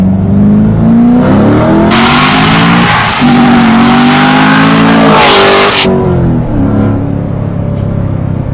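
C7 Corvette Stingray, FBO-modified with boost, accelerating hard in a loud close pull, its engine note climbing steadily through gears with a brief dip at a shift before fading at the end.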